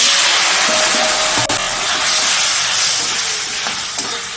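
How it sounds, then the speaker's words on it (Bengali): Ground cumin, coriander, turmeric and chilli fry in a pan with a loud, close, continuous sizzle and hiss, a few faint stirring knocks underneath. "মশলাটা নাড়াচাড়া দিয়ে কিছুক্ষণ ভেজে সামান্য জল দিয়ে দেব"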